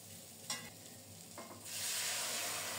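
Fried potatoes go into a pan of cabbage curry with a couple of soft knocks, then a steady, bright sizzle of hot frying rises and holds. It is close and fairly quiet, with no talking.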